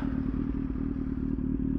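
A motorcycle with an aftermarket loud exhaust idles in neutral on its kickstand, a steady, loud, low rumble with a pulsing, slightly clattering beat, close by and alone.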